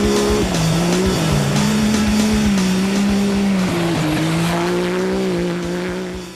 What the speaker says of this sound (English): I can see only dust and hear the roar of the engines.